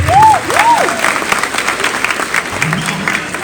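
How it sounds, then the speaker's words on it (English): An audience at a guest-speaker event bursts into loud, sustained applause, many hands clapping at once, with a brief whoop or cheer near the start. "Clap your hands."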